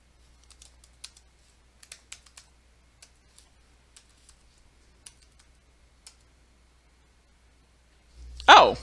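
Password being typed on a computer keyboard: sparse, quiet key clicks in an irregular rhythm over several seconds in a silent room, then a brief louder burst of noise at the end.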